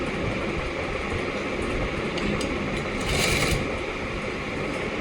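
A sewing machine stitches a firm seam along thin piping on a kameez back neckline, a continuous close mechanical whirring with a brief louder burst partway through.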